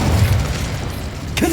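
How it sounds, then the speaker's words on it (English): Incendio fire spell cast in the game Hogwarts Legacy, a dense rumbling whoosh of flame with a deep booming body, ending in a short bright burst. "Incendio!"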